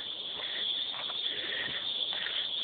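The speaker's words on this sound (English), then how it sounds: "Probably why the cicadas are going nuts." Cicadas drone loudly and continuously in an open field as a storm gathers, a steady high buzzing chorus that fills the whole stretch with faint shifting pulses and no talk.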